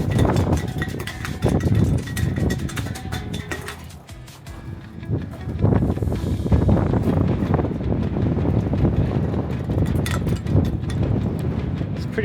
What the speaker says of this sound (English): It's pretty windy up here today.